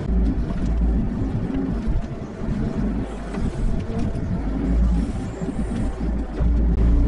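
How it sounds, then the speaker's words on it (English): A Kubota KX121-3 excavator engine drops to idle, a close, low rumbling drone with uneven throbbing swells, heard outdoors with no talking. "When I stop, the machine idles down."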